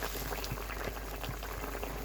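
Pangas fish curry with taro pieces simmering in a covered pot, a soft continuous bubbling and gentle liquid burble at a steady moderate level throughout, with no talking.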